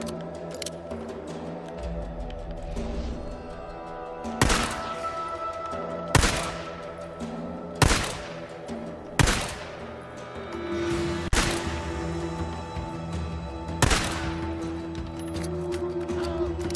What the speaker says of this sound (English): How many times I gotta shoot this bitch before he dies?